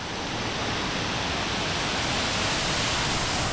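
Bridal Veil Falls waterfall gives off a steady, dense broadband rush of falling water, constant and fairly loud with no pauses or voices.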